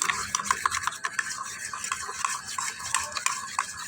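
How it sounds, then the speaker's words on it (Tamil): A homemade slime mixture is stirred by hand in a container, giving a quiet, continuous wet scraping and squelching with a quick, uneven rhythm close by, with no talk over it. "நீங்கள் கலந்துக்கினே இருந்தீங்கன்னா ஹேண்ட்மேட் ஸ்லைம் வந்துடும்"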